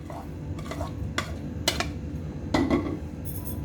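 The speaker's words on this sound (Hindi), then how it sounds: "भलियाँ असी भिओ लियां सी ते हुण असी विच पाउण लगे हैं दही दे विच" Soaked dahi bhalla lentil dumplings drop into whisked, salted yogurt in a large pot, with several soft clinks and scrapes of a spoon against the pot at an uneven pace, close and moderately loud.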